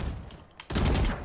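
A single sharp pistol shot from the Classic in the Valorant video game cracks loudly after a quiet moment, its blast ringing on and fading as the clip ends.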